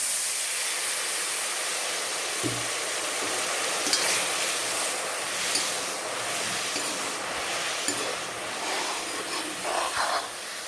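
Water added to sizzling beef fry masala with chili powder and garam masala in a pan produces a strong, broad hiss that holds steady throughout, broken by occasional light knocks of a spoon against the pan.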